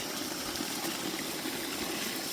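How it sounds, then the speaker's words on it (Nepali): Pure spring water pours from a spout in a Nepali village, a steady, even rushing splash at moderate distance with no pauses. "यहाँ चाहिँ धारा छ एकदम प्योर मूलको पानी"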